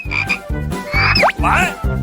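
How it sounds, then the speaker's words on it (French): A frog croaks loudly and close in a rapid rhythmic series of pulsing calls, with chirpy sliding tones over the top and no speech. "qu'est-ce que je dois faire avec une grenouille?"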